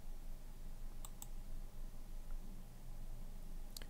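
A computer mouse clicks a few times while a free website is being set up: two quick clicks close together, then a single later one, all faint and sharp over a quiet background hiss.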